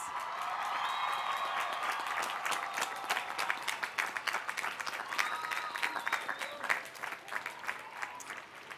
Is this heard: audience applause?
yes